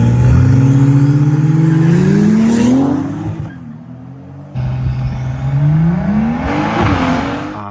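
A BMW with a Stage 2+ tuned B58 inline-six and xDrive launches hard, the engine note climbing loudly through the revs, cutting off briefly at a shift, then pulling again close and roaring.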